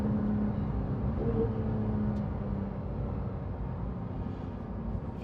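A 2016 Porsche GT3 RS engine drones steadily while driving, held at moderate revs around 4,000–5,000 rpm, a continuous loud low rumble with road noise and no voices.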